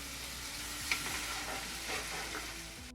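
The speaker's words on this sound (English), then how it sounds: "And then saute for another minute." Spices sautéing in a pan, a steady close sizzle with soft crackles throughout, no voices over it.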